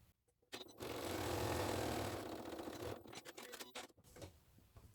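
A sewing machine top stitching the side panels of a Pixie crossbody bag, running in one steady continuous burst for about two and a half seconds, then slowing into short uneven stitches before stopping.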